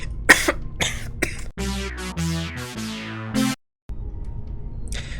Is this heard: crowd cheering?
no